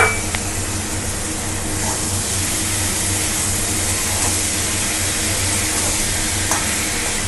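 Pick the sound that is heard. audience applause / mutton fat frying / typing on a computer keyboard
mutton fat frying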